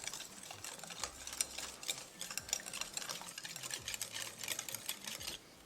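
Fish biryani marinade of salt, degi mirch, olive oil, homemade dahi, cilantro, mint and fried onion being mixed in a bowl, a busy run of soft wet squelches and clicks, close and quiet.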